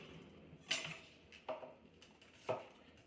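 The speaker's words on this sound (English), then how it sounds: "So cutting the onions." Onions for gazpacho are cut with a knife, giving three separate quiet chops on a board, spaced about a second apart.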